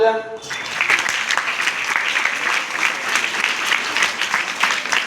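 An audience claps together steadily for about five seconds, loud and close, a dense patter of many hands with faint voices mixed beneath it.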